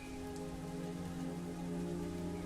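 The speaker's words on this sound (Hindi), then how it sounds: "बारिश के एक बूंद भी हम लोगों के शरीर के ऊपर नहीं पड़ रही है" Steady rain pours down in a cartoon-style effect, an even, continuous patter of drops on a surface with no voices over it.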